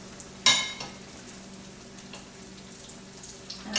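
Egg rolls frying in oil, a steady low sizzle with one sharp clatter near the start and faint crackles throughout, no voices.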